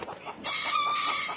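A Shamo rooster crows once in a long drawn-out call, loud and close, with a rising then sustained tone.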